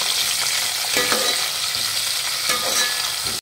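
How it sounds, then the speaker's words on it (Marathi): Vertically sliced medium tomato sautéing in a hot pan for a vegetarian thali, a steady loud sizzle with a few scraping stirs, no voices. "एक मध्यम आकाराचा टोमॅटो उभा चिरून घेतलेला आहे तो घालूयात. आणि परतून घेऊयात."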